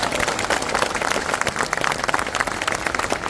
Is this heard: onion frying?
no